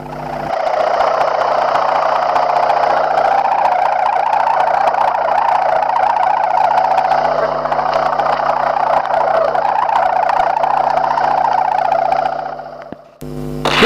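Sawangan kite flute on a three-dimensional boat kite, a steady loud droning hum with a wavering, siren-like pitch that holds for about twelve seconds before cutting off abruptly.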